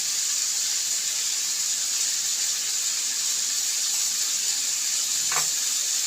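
Tomatoes and onions fry in a pan for a South Indian home-style dish, giving a steady, bright sizzling hiss that stays even throughout, with one brief clink near the end.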